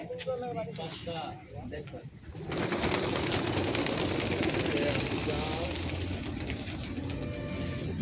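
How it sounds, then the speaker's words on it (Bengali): Racing pigeons are released in a 25 km open-side pigeon tournament, flying off amid a loud, steady rush of wing noise and scattered coos, with voices talking over it throughout. "আমাদের কবুতর ছুটছে এখন"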